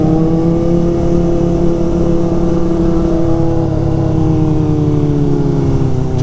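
A Kawasaki Ninja ZX4RR with an aftermarket exhaust pipe revs loudly and continuously, its high-pitched engine note holding steady and then sliding slightly lower toward the end, with no talk over it.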